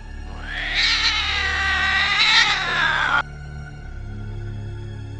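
A long, wailing cat yowl rises and wavers for about three seconds, sounding eerily like a crying baby, loud and close over a low hum.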